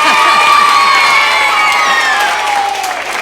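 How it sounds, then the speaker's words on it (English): Audience of Cub Scouts and guests at a Baton Rouge game show taping cheering, whooping and clapping loudly together, a sustained roar of crowd noise and shouts across the whole moment. "Give yourselves a round of applause."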